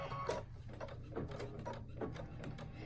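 A Luminaire quilting machine fitted with an auto split border upgrade kit stitches a border design, giving a steady, continuous mechanical whir with rapid needle clatter and small knocks, close and moderately loud, with no talking.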